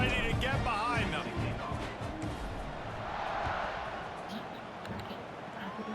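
Football stadium crowd before kickoff: a broad, sustained roar with cheering swells, under steady play-by-play commentary.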